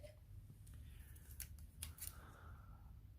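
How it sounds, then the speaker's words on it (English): Scissors snipping through a strip of Velcro on a handmade clutch journal, a few quiet close crisp cuts over a faint steady background hum. "This is Velcro. We don't need this much Velcro to hold this little thing shut. So I think I'm going to cut just a bit off."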